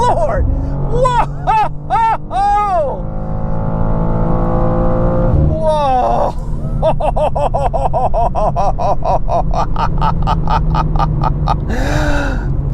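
A 2026 BMW M2 CS engine roars hard and close under launch control, revs climbing repeatedly through rapid gear shifts, a loud sustained surge of acceleration with a voice briefly heard over it.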